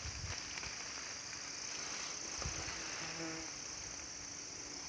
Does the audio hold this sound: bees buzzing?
yes